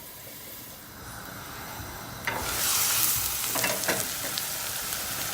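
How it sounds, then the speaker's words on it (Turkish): Onions sizzle steadily in hot chicken fat over medium heat, then the frying grows louder with stirring and scraping noises partway through, close up with no talking. "Aynı tavuğun yağında Orta ateşte soğanda kavuracağız"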